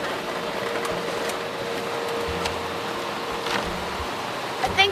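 Water sprays and drums across a car's roof and windows inside an automatic car wash, a steady wash of hiss and rumble heard from within the cabin, with brief louder bursts near the end.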